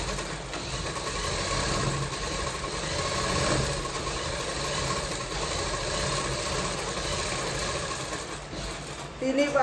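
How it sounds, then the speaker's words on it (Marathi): A sewing machine stitching a baby's rabbit cap hums continuously and close throughout, a steady motor drone with a small clunk near the end. "तिन्ही बाजूने अर्धा इंचावर शिलाई मारून घ्यायची आहे सरळ।"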